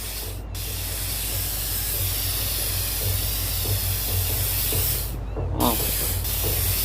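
Spray paint hissing in the Infamous: Second Son video game, a steady broadband spray running nearly continuously with two brief breaks, close and loud with a low hum underneath.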